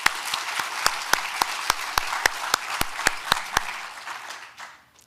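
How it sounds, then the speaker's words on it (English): A summit audience applauds in a warm wash of clapping with sharp regular claps standing out, fading away over the last second. "Let's have another round of applause for them."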